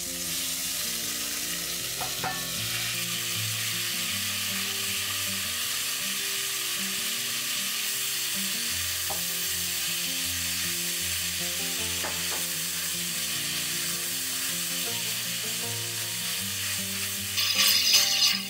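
Doenjang-marinated ingredients seasoned with salt and pepper stir-fry in sesame oil in a hot pot, giving a continuous loud sizzle with occasional utensil scrapes and a brief clatter near the end.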